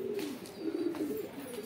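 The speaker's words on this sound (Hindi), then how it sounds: "तो ये देखो भाई, अपने सारे कबूतर खा पी के घूम रहे हैं" Pigeons cooing on a rooftop, with soft, repeated throaty coos rolling close by over a quiet background.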